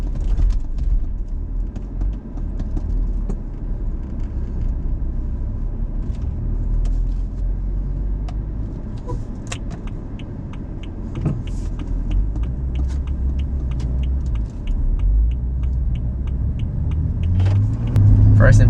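A fully modified BMW M235i with a six-speed manual gearbox drives along, its engine rumbling low and steady with brief revs and small cabin clicks, while people talk inside.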